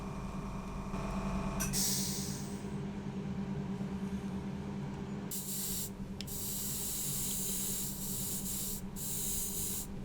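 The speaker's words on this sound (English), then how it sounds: "it goes through the airbrush fine" An airbrush sprays varnish thinned with levelling thinners onto 1/32 scale Bf109G-14 model parts, giving bursts of close, sharp hissing air that start and stop several times over a steady background hum.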